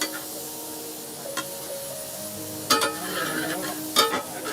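Onions fry in a pan for fish curry, a low, soft sizzle broken by a few sharp stirring scrapes and clinks against the pan.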